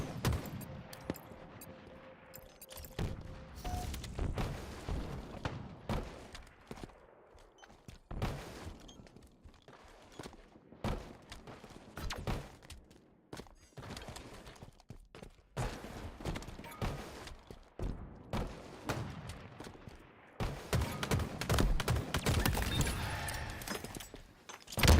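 Gunfire in a competitive Halo match, with rapid bursts and sharp cracks of sniper and automatic weapons repeating throughout, dense and close with dips between exchanges.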